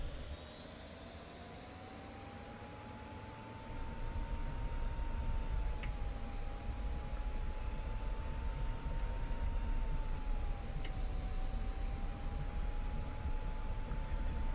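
A North American F-86F Sabre jet engine running on a runway, a loud, steady roar with a whining tone that gently wavers in pitch and swells noticeably after a few seconds, with no talking.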